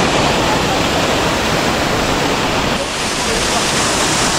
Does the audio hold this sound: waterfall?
yes